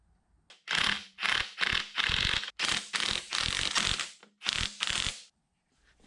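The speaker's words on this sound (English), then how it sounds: "I can retighten all of the screws here for the parking attachment" A ratchet tightens screws on the parking attachment of a K&T milling machine, a close, loud run of dry clicking bursts with short pauses between strokes.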